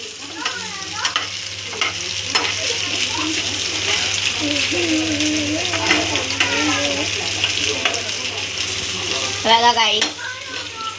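Crisp okra fry sizzling in a pan while it is stirred, a steady close sizzle broken by scraping stirs, with someone talking over it.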